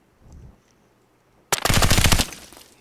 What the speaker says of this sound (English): I'm going to shoot the concrete wall